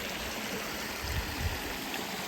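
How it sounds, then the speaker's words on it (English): Two streams meet at a confluence, one coming down from Hearncluff and one from Alport Head, their water rushing together in a steady, broadband wash with a low rumble underneath. "This is the confluence of this stream here that comes down from Hearncluff"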